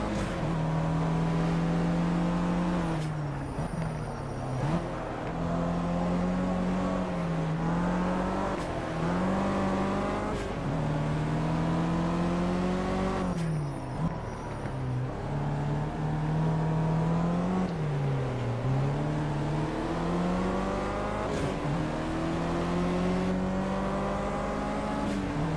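A BMW race car in the Project Cars racing game accelerates hard, its steady high engine tone climbing and dipping through gear changes with a continuous loud whine and brief shift breaks, no voices over it.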